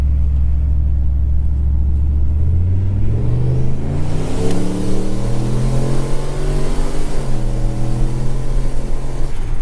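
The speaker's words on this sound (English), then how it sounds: "I'm gonna try to stab it, you know, from like 20 or something, 30 maybe, and see if it sticks, and see if this tranny shifts better or not." Turbocharged 2012 Chevy Caprice with an E38 V8 revs loud and close as it accelerates, its engine note climbing in steady rising sweeps, dropping at each gear shift, then pulling up again with no talk over it.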